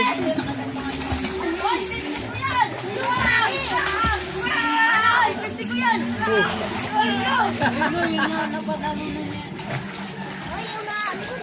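Children shout and chatter excitedly while water splashes and splatters around them in bursts in a swimming pool, lively and close.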